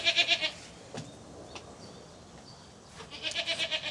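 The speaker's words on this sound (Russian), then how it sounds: "А Ира нам вот во двор козу привела." A goat bleats in a rural yard, with one wavering call at the start and another at the end. Quiet rustling fills the gap between them.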